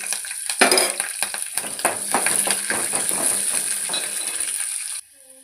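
Chopped green chillies frying in a pan, a steady close sizzle with scattered clinks and stirring scrapes for about five seconds before cutting off abruptly.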